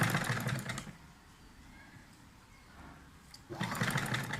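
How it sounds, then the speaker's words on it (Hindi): A sewing machine in a beginner stitching class runs a second seam directly over an existing middle stitch line, in two short bursts at the start and end with a quieter stretch between. "अब इस सिलाई के ऊपर हम दूसरी सिलाई लगाएंगे"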